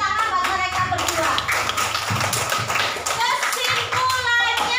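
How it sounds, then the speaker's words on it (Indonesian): A primary-school classroom breaks into applause for two pupils, a burst of many small hands clapping in a quick uneven patter, with a teacher's voice and children's voices over it. "Tepuk tangan buat mereka berdua"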